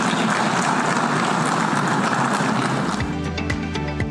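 Applause for President Prabowo's speech at the United Nations, a dense roar of clapping from a large hall that fills the first three seconds, then thins into scattered individual claps.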